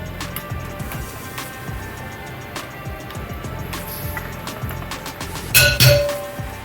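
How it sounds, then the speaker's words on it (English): Hand-stirring a light emulsion in a container with a utensil, giving repeated small clinks and taps against the sides, close and fairly quiet, with a louder clatter near the end. "I'm just going to stir it until I think it's okay to go."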